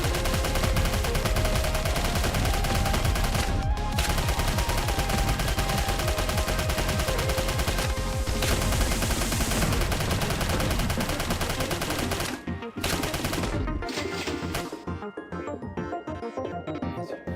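Sustained rapid bursts of submachine gun fire in the video game Snezhinka: Sentinel Girls 2, loud and dense, over a dense in-game soundscape, thinning out into scattered shots near the end.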